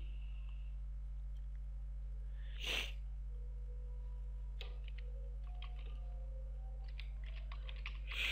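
Quiet keystrokes on a computer keyboard while entering a command in a server terminal, a few scattered clicks and short bursts of typing over a steady low electrical hum.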